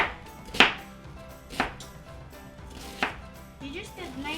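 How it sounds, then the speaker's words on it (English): Knife chopping onions on a board while making steak risotto, three separate sharp cuts spaced about a second apart, close and clear, with quiet background sound in between. "But we have to finish cutting the onions."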